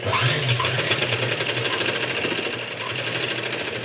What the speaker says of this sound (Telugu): అదే స్టిచ్ మీద ఇంకో స్టిచ్ వచ్చేటట్లుగా ఇంకో స్టిచ్ వేసేసుకోవాలి